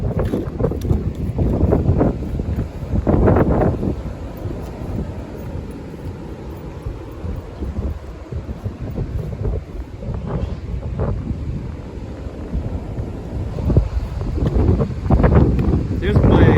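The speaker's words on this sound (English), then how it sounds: "It is a bit windy today" Steady wind on an Appalachian Trail hike toward the Blue Ridge Parkway buffets the microphone in a continuous low roar, with a person talking intermittently over it.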